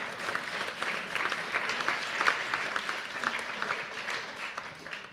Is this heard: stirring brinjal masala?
no